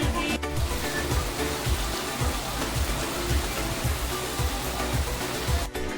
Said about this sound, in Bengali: বাইরে ভীষণ বৃষ্টি পড়ছে দেখো বন্ধুরা